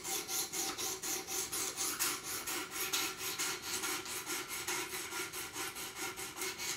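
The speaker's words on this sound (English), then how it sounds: "I truly believe what you're watching here is the best way to sharpen a knife" A Buck 110 knife blade is drawn across the abrasive of a Work Sharp Pro Precision Adjust sharpener, making steady, evenly paced rasping strokes, close and clear, repeating about twice a second with no talking.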